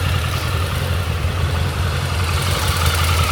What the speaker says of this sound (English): And hear that Revolution engine.